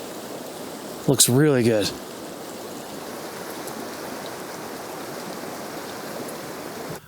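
A river flows in a steady, broad rushing wash that fills the whole clip, with a person speaking briefly near the start over the water noise.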